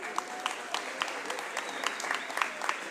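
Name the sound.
audience applauding themselves at community meeting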